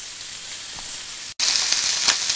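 Steaks searing in a smoking hot pan give a loud, steady, close sizzle with a momentary cut partway through, and no talk.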